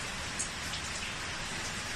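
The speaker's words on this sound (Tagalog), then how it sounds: "dito ayan ang daming patak yan. Sa mga ulan." Rain water drips and patters steadily through a leaking roof in a home under second-floor construction, a dense, even hiss of drops with no voices.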